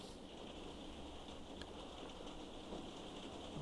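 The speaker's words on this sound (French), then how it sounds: "désolé s'il y a un peu de boucan derrière, mais il pleut" Rain falls steadily outside as a faint, even hiss of drops, with a couple of soft distant bird calls and no voices.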